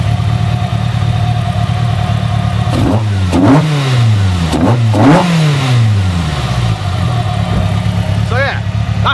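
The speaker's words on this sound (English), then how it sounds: "our individual throttle bodies are fitted as well. So that is a big win. In fact, I'll rev it so you can hear it." A 200bhp Ford Fusion ST engine fitted with individual throttle bodies, idling and then blipped through several sharp rev bursts that rise and fall, close and loud, with a brief final rev near the end.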